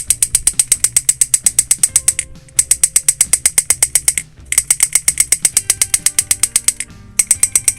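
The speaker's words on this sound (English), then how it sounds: "That is one really cool thing about having a solenoid as your pusher." A solenoid pusher in a foam blaster running on a 3S battery fires in rapid, evenly spaced mechanical clacks, loud and close, in three bursts separated by short pauses.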